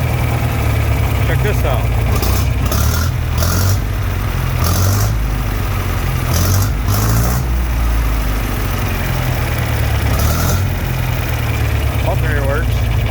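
A John Deere 3020 LP tractor engine idles steadily with a loud, low, throbbing rumble, close by and continuous, while people talk over it.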